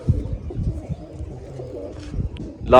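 A China breed racing pigeon coos close by in low, repeated throaty pulses, with faint background voices and a brief sharper sound at the very end.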